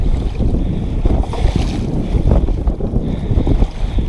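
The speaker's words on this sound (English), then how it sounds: "This wind is this strong right now, and it's going to be stronger on my way back" Strong wind buffets the microphone on a lake during kayak fishing, a loud, continuous low roar with gusty swells and a faint splash of water underneath, no voices.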